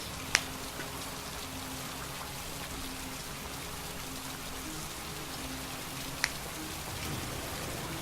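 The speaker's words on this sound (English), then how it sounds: "We only have one more inch of rain left." Rain falls steadily in the video game Heavy Rain, a soft, even hiss of drops with two brief sharp ticks standing out against the constant patter.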